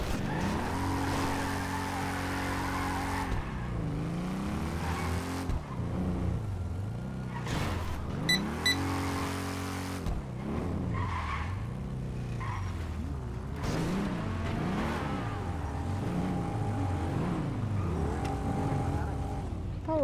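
Car engine droning continuously in GTA 5, with rising and falling revs as the vehicle is driven, plus occasional skid and tire noise, loud and close, with game voices talking over it.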